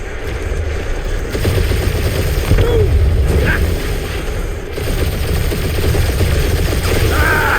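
Sci-fi combat in the Marvel's Guardians of the Galaxy video game, a dense continuous barrage of gunfire and booming explosions with mechanical whirs throughout.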